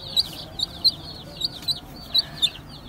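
A yellow chick peeps in short, high, sharp chirps, about eight scattered across a few seconds over a low background hum.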